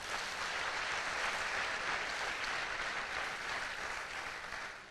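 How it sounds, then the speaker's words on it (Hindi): Sustained applause from an audience, a dense steady patter of clapping heard from some distance, fading slightly at the end. "आपके लिए एक जोरदार तालियां होनी चाहिए।"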